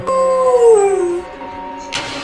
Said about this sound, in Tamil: என்ன நாய் வேற கத்துது